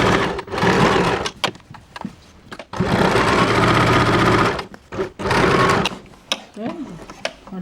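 A sewing machine stitches fabric in three quick, rattling bursts, each a few seconds long, with short gaps and faint voices between them.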